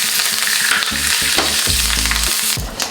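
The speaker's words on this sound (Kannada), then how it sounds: "ಒಗ್ಗರಣೆ ಹಾಕ್ತಾಯಿದ್ದೀನಿ." Mustard seeds, asafoetida and curry leaves are tempered in two spoons of hot oil for a yogurt curry, giving a steady close sizzle with scattered pops over background music, with no talking.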